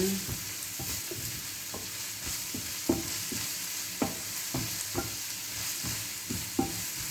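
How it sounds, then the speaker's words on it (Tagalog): Eggplant frying in a pan, a steady sizzle with repeated clinks and scrapes of stirring scattered throughout, close and moderately loud with no talking. "Yan, luto natin si eggplant."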